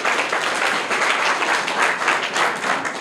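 An audience applauds steadily for a child who has just answered a quiz question correctly, dense clapping holding at an even level for the whole stretch with no voices over it.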